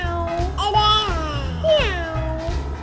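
A young child imitates a cat, producing two drawn-out, wavering meows at close range in a quiet indoor setting, with an adult's voice faintly in between.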